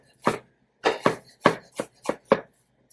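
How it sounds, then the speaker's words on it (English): A knife chops fresh leaves on a cutting board, making about seven firm, close thuds at an uneven, unhurried pace with brief pauses between, no voices. "you can chop it up a little bit so they are not too big"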